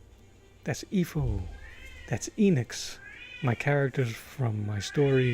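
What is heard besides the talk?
pet cat named Broadway meowing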